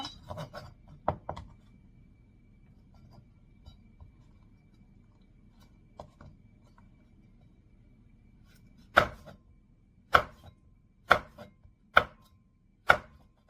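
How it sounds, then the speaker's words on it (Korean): A knife chops hot chili peppers on a cutting board, a few soft cuts and then five sharp, evenly spaced chops, close and clear. "자, 고추를 이제 썰어야 되는데요"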